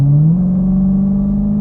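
A Dodge Challenger Super Stock car accelerating, its engine note stepping up in pitch then holding a loud steady low drone, heard close from inside the car.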